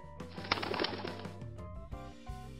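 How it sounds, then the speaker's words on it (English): A pigeon cooing, a close, fairly clear series of soft rolling coos with a brief wing-flutter-like burst in the middle, no speech. "Pigeon"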